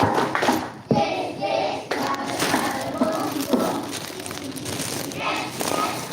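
Children at a Scout camp-out clap a cheerful chant in rhythmic bursts, sharp hand claps mixed with young voices chanting and talking, the group close and fairly loud.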